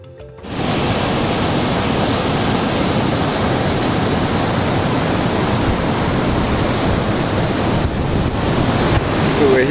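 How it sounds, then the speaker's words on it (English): The rough, rushing Ewaso Nyiro River near the base camp of Mount Ololokwe in Kenya, a loud, continuous roar of churning water that starts abruptly and fills the whole stretch. "Rough rivers."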